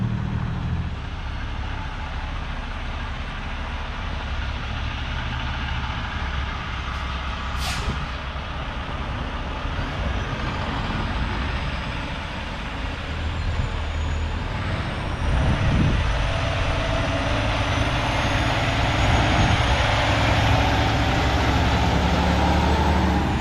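A heavy truck hauling a 1966 Ford Galaxie 500 convertible pulls away, a steady low engine rumble with a brief hiss near the start and a slight rise in loudness toward the end, with no talk.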